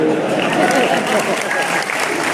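Indoor audience at a motivational talk clapping together in a dense, even burst that fills the room, loud and close throughout.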